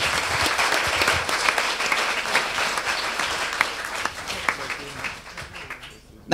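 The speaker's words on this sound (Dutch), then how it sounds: "Oké, applaus, Team Looney Tunes!" Applause from a late-night hacking event audience, a dense, sustained clatter of many hands clapping that thins out toward the end before stopping abruptly.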